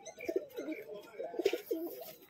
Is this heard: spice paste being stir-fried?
no